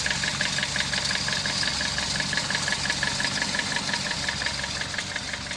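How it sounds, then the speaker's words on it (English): A 1937 Vauxhall H 10/4 classic car's four-cylinder engine idles steadily, a loud, even mechanical thrum with a faint rapid ticking running through it, continuous with no voices. "4-cylinder engine."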